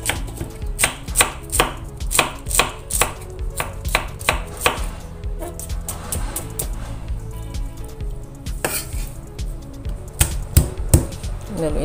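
Spices for vegetable bakwan fritters pounded fine in a mortar and pestle: a close, steady run of firm thuds in a regular rhythm with a brief pause midway and no talking.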